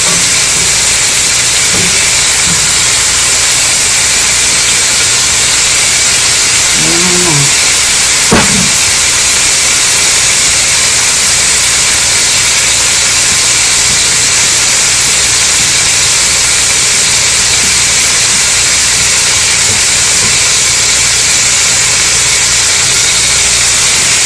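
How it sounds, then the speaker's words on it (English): Steady, loud broadband sizzling hiss of meat searing in a hot pan with olive oil, for birria tacos, with a couple of faint clinks near the middle. "You want high sizzle. That's when you know that your meat is doing what it's supposed to do."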